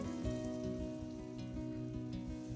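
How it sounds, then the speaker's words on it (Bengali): Lentil fritters frying in hot white oil, a steady dense crackling sizzle with no pauses, fairly soft and close, and no voices. "এবারে সমস্ত কিছুকে ভালোভাবে মিশিয়ে গরম তেলে ছেড়ে বড়ার আকারে ভেজে নিচ্ছি।"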